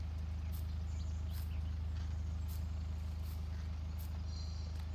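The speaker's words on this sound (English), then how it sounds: "knew I heard a car." A steady low engine drone hums throughout, like a car running nearby in the video game Farming Simulator 19, with faint higher clicks and whooshes on top.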